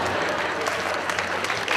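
Audience applause at a televised talk event, a dense steady patter of many hands clapping close by, sustained for the whole short stretch with no talk over it.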